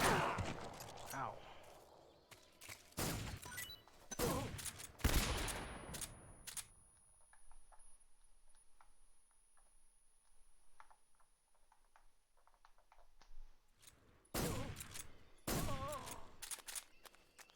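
Rapid bursts of gunfire in Metal Gear Solid 3: Snake Eater, loud sharp cracks in clusters at the start and end with a quieter stretch of faint ticking between.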